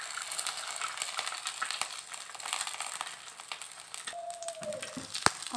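An egg frying over a medium flame gives off steady crackling and sizzling with small pops close by, and a short scrape and clink come near the end.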